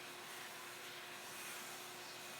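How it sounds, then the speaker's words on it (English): A vacuum cleaner runs on a guitar workshop table while a Fender-style Jaguar body is being made, a faint, steady, even whoosh with a thin constant tone. "to vacuum up a little bit."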